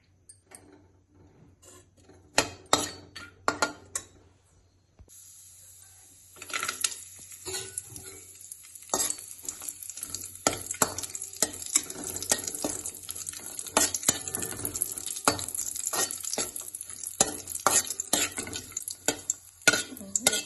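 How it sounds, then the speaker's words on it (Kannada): Cashews crackle and sizzle gently in ghee while a spoon scrapes and clinks against the pan in quick, repeated strokes. "1 ಸ್ಪೂನ್ ತುಪ್ಪಕ್ಕೆ ಫಸ್ಟ್ ಗೋಡಂಬಿ ಹುರ್ಕೊಳ್ಳೋಣ."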